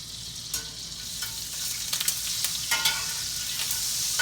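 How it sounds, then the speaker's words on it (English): Butter melting into hot oil in a frying pan, a loud steady hiss and crackle of sizzling with scattered pops, close up and uninterrupted. "I got oil heating up. I'm going to add some butter to it too."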